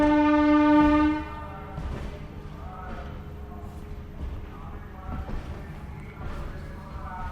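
An Amrit Bharat Express train passes through Bardhaman Junction. A loud, steady horn blast opens the sound for about a second, then the rolling rumble and rhythmic wheel clatter of the train carry on at a lower level.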